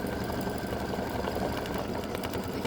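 An embroidery machine quilting sections of a patriotic table runner hums with a steady, fast, even stitching buzz that runs without a break at moderate volume.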